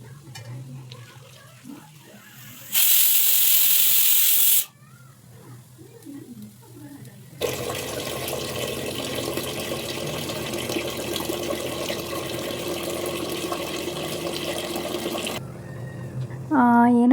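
Tap water runs while rice is washed in a home kitchen, first in a short loud gush, then in a longer steady stream, with quieter handling noises and faint voices between.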